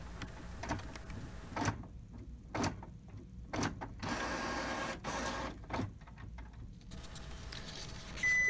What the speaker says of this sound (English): now I just print a random page, let's say the nozzle check page